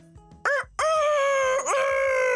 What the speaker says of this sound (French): Et comme tous les coqs, il y a un truc qu'il adore faire. C'est chanter à tue-tête.